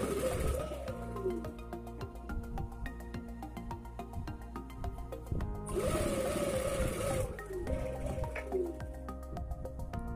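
A sewing machine stitches suit or kameez fabric, folding and tacking a hem with a loose stitch, in fast rhythmic runs with a louder burst midway, nearby and without talk.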